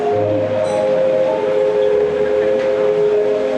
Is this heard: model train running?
yes